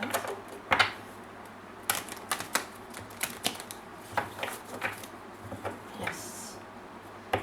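Quiet, irregular crisp clicks and riffling snaps of tarot cards being shuffled, in scattered bursts with short pauses, close by.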